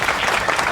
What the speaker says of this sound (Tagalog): Lahat nga po ng mga nakadala ng pamilya na narito sa church, pumalakpak tayo sa Panginoon.